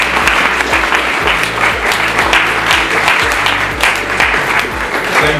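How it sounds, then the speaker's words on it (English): Loud, steady crowd applause fills a conference hall at the ACCAD Forum in Accra, continuous clapping over a low repeating musical beat. "A big round of applause to yourself."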